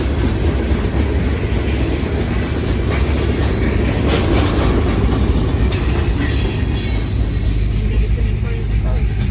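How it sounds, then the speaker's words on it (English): A long freight train rumbles past close by, steady heavy rolling noise with clacking wheels and occasional metallic squeals, continuous throughout. "We're waiting for this long train to go by."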